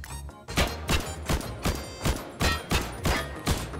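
SKS rifle gunfire in a Minecraft gun mod: about eight sharp single shots at an even pace, loud and close, with no talking.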